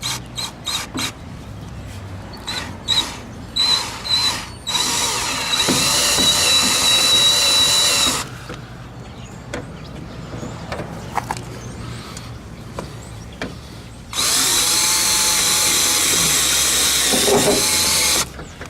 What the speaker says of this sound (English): I'm going to just try to drill it in as far as I can and then pry it out.